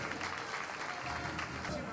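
Sustained applause from a carnival queen crowd honouring the remaining candidates, a dense steady wash of clapping filling the whole moment with a voice faintly mixed in.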